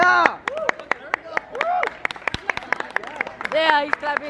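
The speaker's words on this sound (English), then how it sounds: "he's clapping you" People clap inside a shopping outlet, scattered sharp claps mixed with lively, excited voices and cheering close by.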